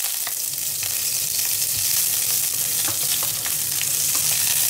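Onions sauté in a hot pan, a loud, continuous close sizzle broken by occasional spatula clicks and stirring taps.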